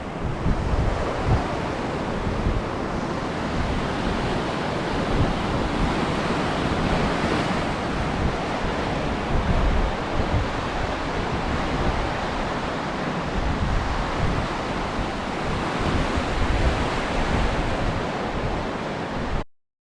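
Ocean surf breaking on a rocky, litter-strewn beach in Mexico, a steady loud roar of crashing waves with wind buffeting the microphone throughout, no voices.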